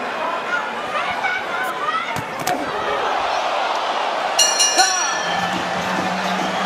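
Steady crowd buzz fills a boxing arena during the Crawford vs Kavaliauskas title fight, a dense murmur of chatter with occasional sharp slams and rising cheers near the end.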